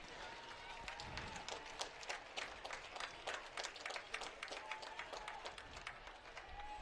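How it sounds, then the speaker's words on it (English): A home crowd claps steadily in the stands at a high school football game between Conneaut and Geneva, with dense, even applause heard from a distance that lasts throughout. "As the home crowd's applauding, at how tough the Eagle player was for being helped out"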